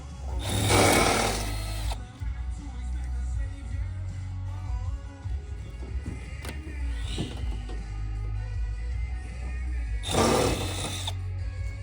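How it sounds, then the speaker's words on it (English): A power drill whirs in short, loud bursts at the start and end while a trailer's wooden deck is stripped for salvage, with steady mechanical noise and rattling in between. "Push down on the drill when you do it."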